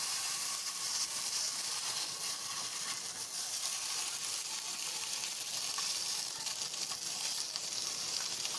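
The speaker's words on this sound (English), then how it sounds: "Now what I'm gonna do is add my sausages to my pan." Sausages fry in a dry pan with no oil, a constant bright sizzle and hiss running steadily throughout at a close, even level.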